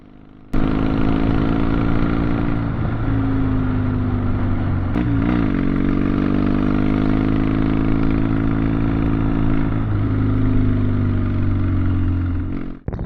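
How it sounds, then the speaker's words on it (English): A Triumph T100 motorcycle engine drones loud and close while riding, a steady low rumble holding through gear changes and brief throttle shifts before dropping off abruptly at the end. "hopefully you can hear the bike, see if there's anything different in it"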